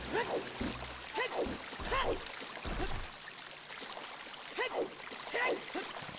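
Flowing river water in the Zelda: Ocarina of Time video game, with steady rushing and splashing under repeated short game sound effects, fairly quiet overall.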